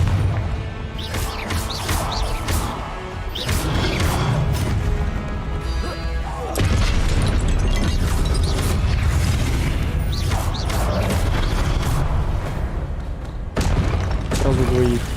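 Confringo blasting spell explosions in the video game Hogwarts Legacy, a loud sequence of crashing, booming blasts and clanking impacts over dense game combat noise, with someone talking over parts of it.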